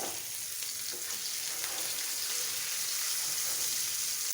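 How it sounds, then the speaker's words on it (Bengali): Pieces of katla fish fry in hot oil in a pan, giving a steady, close, bright sizzle with faint crackles that runs evenly and without pause. "এখন মাছটাকে ভালোভাবে ভেজে নেব"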